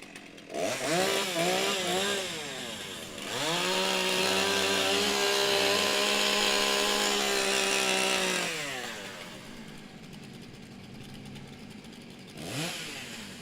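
STIHL chainsaws warming up at a timbersports championship, engines revving up and down in loud bursts, one sustained high-pitched whine dominating for several seconds before easing off, then a brief rev near the end.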